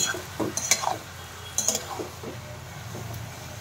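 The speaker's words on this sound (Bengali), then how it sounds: "ফোড়ন দিয়ে খুব ভালো করে সমস্ত সবজির সাথে এটা মিশিয়ে দিচ্ছি।" Vegetables with a spice tempering are stirred in a pan over a medium flame, giving faint scraping and clinking strokes in a few short bursts over a low sizzle.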